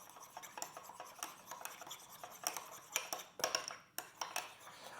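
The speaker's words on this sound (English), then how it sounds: "And then we're just going to mix that together." Mayonnaise and lemon juice being mixed in a bowl, a quick run of scraping and rubbing strokes from a utensil against the bowl, close and rhythmic, with a few light clinks and no talking.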